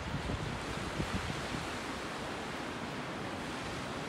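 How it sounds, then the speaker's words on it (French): Surf and strong wind at a closed beach in Cap Saint-Jacques park, Montreal: a steady, dense roar of waves and wind buffeting the microphone, with no voices. "c'est une plage ici. Mais là, elle est fermée."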